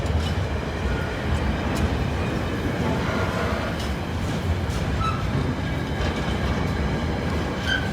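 A light Class 47 locomotive passes the High Street level crossing with a steady, loud rumble and rail noise that holds evenly throughout, with no talking.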